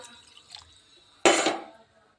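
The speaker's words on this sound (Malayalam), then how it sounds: "അപ്പം ഞാൻ കുറച്ച് വെള്ളം കൂടെ ഒഴിച്ചു കൊടുത്തു" A brief, loud splash of water poured into a pot of fish curry lasts about half a second, then the sound fades to quiet.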